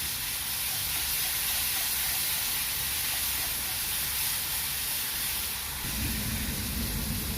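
Ginger garlic paste sautéing in hot oil over browned onions for an ash gourd curry, producing a loud, steady, close hiss that carries on unbroken throughout, with no voices.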